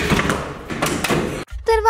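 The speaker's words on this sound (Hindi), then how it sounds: "ओह, दरवाजा बंद हो गया।" A door thuds shut once near the end, with a short silence after it, following a stretch of talk.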